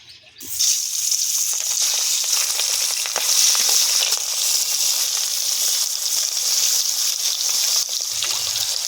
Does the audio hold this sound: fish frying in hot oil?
yes